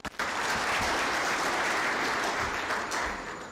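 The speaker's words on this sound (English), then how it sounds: "a better round of applause for the CEO" A crowd at an IEBC event claps for the CEO in a steady, dense burst of applause that holds strong for a few seconds before tapering slightly.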